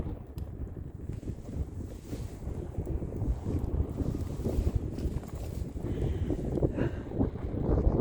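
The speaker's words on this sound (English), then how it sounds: "Yeah, it's windy up here, guys." Strong gusts of wind roar and buffet the microphone continuously high in Wyoming's Bighorn Mountains, a rough, blustery rumble with no voices.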